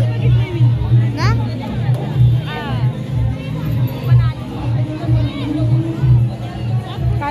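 Dense crowd chatter fills a long, busy queue, where many overlapping voices blend into a steady babble. A low hum runs continuously underneath.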